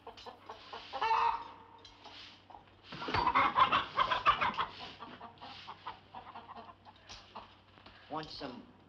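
Chicken clucking heard in a 1949 film, Inspector General, with short clucks and bird calls spread through the clip under and between voices and louder bursts of sound, fairly close and moderate in level.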